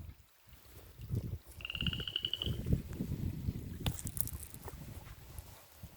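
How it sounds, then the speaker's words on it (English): A low, continuous croaking chorus of toads, with rough, rattly calls layered over each other and a brief higher trill partway through. "Here are the toads."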